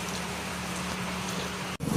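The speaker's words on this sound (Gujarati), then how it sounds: "આ જો વરસાદ આવતો છે ઝીણો ઝીણો એમ તો ઘણો આવતો છે" Light, fine drizzle falling outdoors, a soft continuous patter and hiss at low level with a faint steady hum underneath, cut by a brief dropout just before the end.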